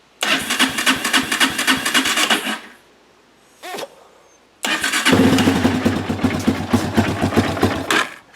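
A Honda CRF230 dirt bike with the choke on cranks and fires, a loud close sputtering engine burst, a pause with a short crank, then the engine catching and running steadily.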